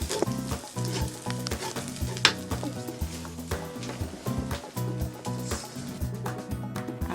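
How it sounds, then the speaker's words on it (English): Rice stir-fried with chicken, sausage, oyster sauce and soy sauce gives a steady sizzle with stirring clatter, under rhythmic background music. "Added my chicken and sausage, oyster sauce, and a little bit of soy sauce as well. And then you stir, stir,"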